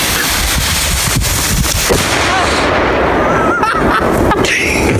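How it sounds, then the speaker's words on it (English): A firework bomb goes off in a burst of loud, dense crackling and booming explosions that fill the whole stretch, with faint voices underneath. "It's a Wile E. Coyote bomb."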